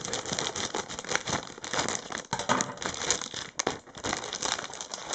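Scissors cut open a foil packet from a Panini Adrenalyn XL Ekstraklasa limited-edition card multipack, with close, continuous crinkling and crackling of the foil, loud and uninterrupted by speech.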